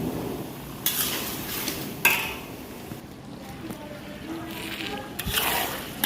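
Tomatoes cooking in oil over low heat in a pan for a home-style Gujarati meal, stirred with a utensil in several scraping bursts over a soft, steady background hiss.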